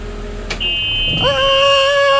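A steady electronic alarm tone sounds on a school bus, then a harsher multi-tone buzzing alarm kicks in and holds continuously, loud and close.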